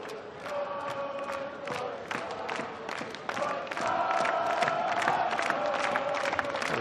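A crowd at an indoor hockey match in Leipzig cheers and shouts, a loud sustained roar of voices that swells further partway through and carries on, with scattered whoops over the din.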